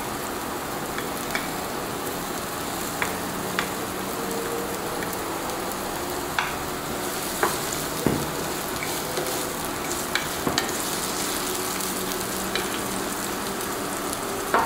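Onion and a little pepper fry in a pan with a soft, even sizzle and scattered small pops and crackles, heard alone without talk.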